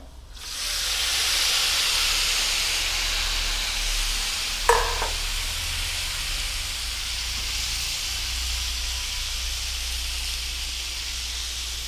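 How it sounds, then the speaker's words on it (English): Mutton liver sizzling in a pan with coriander, cumin and garam masala spices, a loud steady hiss that swells in after a quiet start and holds throughout, broken by one short clink midway. "So now I will add the mutton liver."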